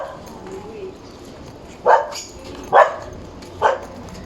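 A dog barks three times in a cramped squatter neighborhood, short loud barks spaced about a second apart after a stretch of quiet background.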